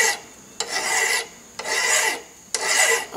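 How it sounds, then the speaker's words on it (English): A hand file rasps across a forged steel slot punch to finish its shape, making three long scraping strokes in a steady rhythm, close and fairly loud, with brief pauses between them. "Then we'll get a file out. We'll go to finalizing the shape."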